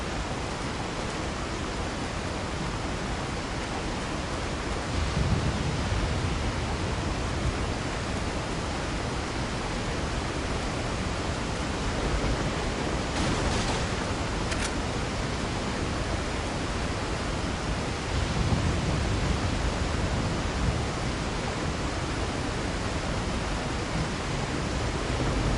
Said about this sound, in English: this rain is hella loud